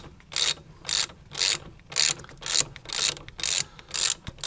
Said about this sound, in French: j'arrive à la fin du démontage du premier écrou